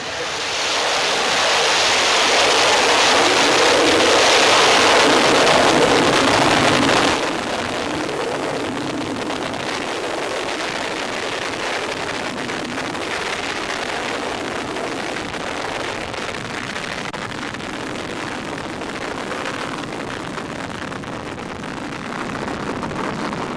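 An Astra test rocket ignites and lifts off, producing a dense, loud roar for the first several seconds that drops to a steadier, softer rumble with wind-like noise as it climbs away.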